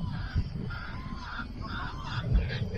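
Seagulls call from near their nests on the Knidos coast in the Gulf of Gökova, giving several honking, goose-like cries over steady wind and boat noise.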